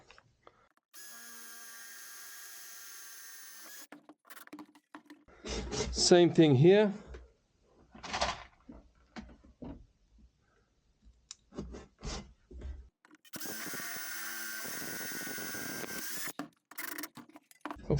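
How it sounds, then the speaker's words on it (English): A power drill whirs in short bursts, stopping and starting, with clicks and handling noises and someone speaking briefly in between. "I'm going to drill here"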